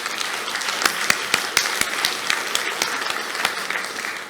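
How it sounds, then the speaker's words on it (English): Audience applause at a 2019 convention session for two guests, one the Mayor of Humboldt: steady, fairly loud clapping from a crowd with sharp individual claps standing out, lasting throughout. "Let's have a round of applause for these two gentlemen."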